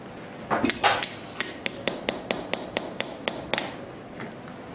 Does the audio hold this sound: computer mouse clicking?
no